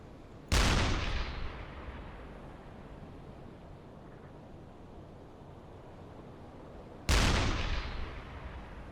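A U-boat deck gun fires high-explosive shells at sea in the game UBOAT: two heavy, booming blasts about six seconds apart, each rolling off into a long rumbling decay over steady ocean wash.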